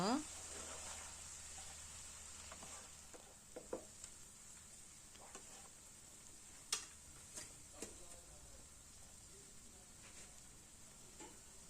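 Cooked rice being stirred into vegetable fried rice in a pan, with a steady sizzle and scattered scraping, tapping stir strokes throughout, moderately near.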